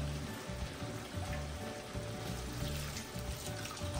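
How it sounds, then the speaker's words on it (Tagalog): Water pours steadily into a cooking pot of chicken and patola, a continuous splashing rush that stays close and even from start to finish, with no voices. "Maglalagay na tayo ng tubig."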